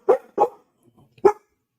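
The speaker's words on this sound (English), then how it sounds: "What are you guys barking at?" Dogs barking indoors: two quick loud barks close together, a brief pause with faint whimpering, then one more sharp bark, near and clear with no talk.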